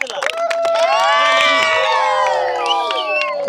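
Large outdoor crowd cheering, whooping and shouting in celebration of India's T20 World Cup win at DRM ground in Harihara, a loud sustained roar of many voices with little distinct clapping.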